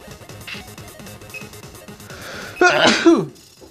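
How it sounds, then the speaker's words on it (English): A sudden loud, close sneeze bursts out near the end, following a stretch of low throaty murmuring and clicks. "that was an awesome sneeze"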